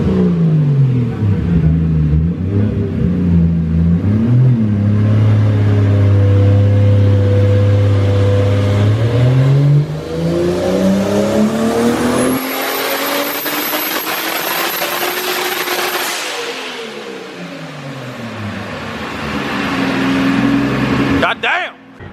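A Toyota Supra fitted with a new turbo runs up to 28 PSI boost. The engine roars loudly and climbs steadily in pitch, and a high turbo whistle rises over it before the revs drop away and settle.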